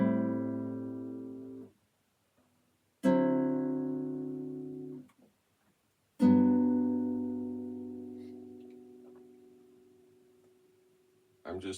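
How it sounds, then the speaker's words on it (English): Three jazz chords ring out one after another on guitar, each strummed once and left to decay, close and clean with pauses between them. "Let's hear those 3 chords in sequence."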